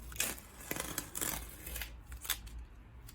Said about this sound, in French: Donc je vais enlever mes scotch.